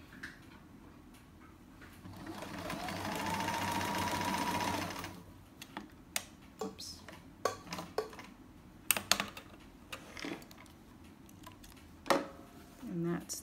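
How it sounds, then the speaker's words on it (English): A sewing machine stitches a test row on fabric in one steady whirring run of about three seconds, followed by scattered clicks and handling taps as the work is checked. "before I actually go start stitching, I am going to go ahead and test it to make sure I've got all my settings right"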